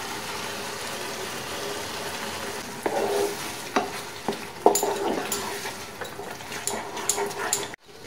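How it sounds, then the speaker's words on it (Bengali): Spinach paste being stirred into oil-released spices in a frying pan, with a steady sizzle throughout and several louder scraping, stirring strokes in the second half, close and alone without talk. "ভালোভাবে মশলার সাথে মিশিয়ে নাড়াচাড়া করে"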